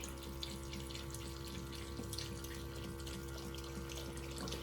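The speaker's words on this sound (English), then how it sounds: "I'm pouring more water in here and see what happens" Water poured into a portable washing machine, a steady close trickling and splashing with faint clicks over a constant low hum, no talking.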